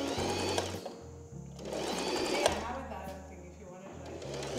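Sewing machine running in steady stitching bursts, its motor whirring and chattering nearby, with people talking over it.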